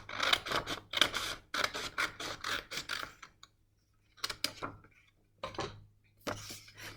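Scissors snipping through a paper strip being cut for a crown, a series of crisp, papery cuts in uneven clusters separated by brief pauses, close and fairly quiet.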